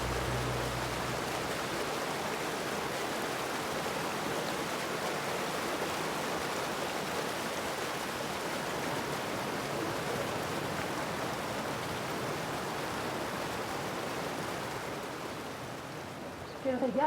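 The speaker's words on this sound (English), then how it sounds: "the natural pools and waterfalls of Wadi Bani Khalid demonstrate" Waterfalls and natural pools at Wadi Bani Khalid in Oman give a steady, even rush of falling water, close and continuous with no break.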